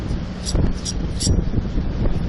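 Strong wind buffets the microphone while fishing from a boat in rough weather with fast current, coming as loud, gusty rumbling bursts, with water sounds and a voice partly audible underneath.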